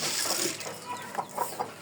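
Domestic chickens, a hen and a rooster fed on paddy grain, give a few soft, scattered clucks close by while eating, with light pecking and rustling in between.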